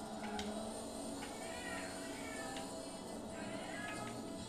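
A house cat meows several times in the background, short, fairly faint calls repeating through a steady hum of a racing game in Forza Motorsport 7 on Xbox One.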